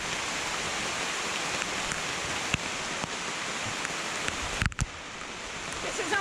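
Steady rain hisses across a rainforest canopy, a broad even wash of drops close around, with a couple of brief knocks and rustles near the end.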